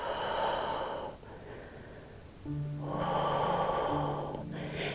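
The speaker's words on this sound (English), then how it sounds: "And breathe in" Slow breathing during a gentle yoga stretch, an audible airy exhale, a brief pause, then another breath, close and soft, with faint tonal background music underneath.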